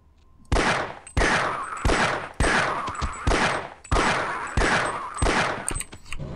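Pistol in the video game Half-Life 2: Episode Two, about eight loud single shots spaced roughly evenly, each a sharp crack followed by a short echoing tail.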